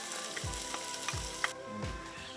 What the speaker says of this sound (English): So the pan is hot. You got your onions and then your garlic.